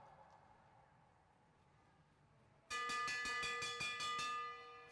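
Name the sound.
final lap bell at race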